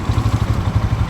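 A Bajaj Pulsar N125 motorcycle engine thrums close and loud while being ridden, a rapid, even pulsing beat with a slight mechanical clatter.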